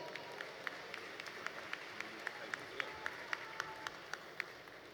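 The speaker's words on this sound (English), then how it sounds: "Would you please join me in giving him a big round of applause?" Audience applause at a winter university commencement ceremony, a soft, even wash of many hands with a few sharper individual claps standing out at a regular pace, fairly distant and steady throughout.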